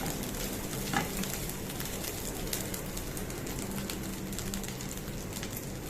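Grated coconut is stirred and sautéed in ghee, giving a soft continuous sizzle with faint scraping. A cooing bird can be heard briefly in the background.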